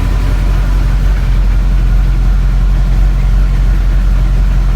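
A 1983 VW Rabbit GTI engine idles steadily and loudly on its first fire-up, with a low continuous rumble and a faint rattling texture from the exhaust throughout.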